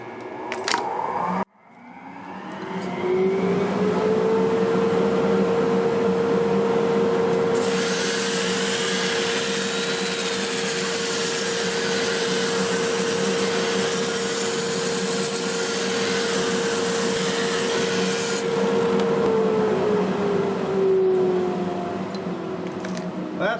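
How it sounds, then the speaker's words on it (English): A dust collector in a woodturning shop starts up after a short silence and runs as a loud, steady drone with a sustained hum and broadband rushing air, holding level for about twenty seconds before easing slightly at the end. "I'm going to go ahead and start my dust collector."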